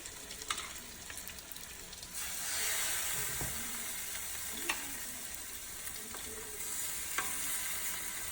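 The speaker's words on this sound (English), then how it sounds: "Let's get that sizzle going and see if it's ready." Steady, loud sizzling and crackling of salmon searing in a hot pan, with occasional small pops and scrapes, no voices.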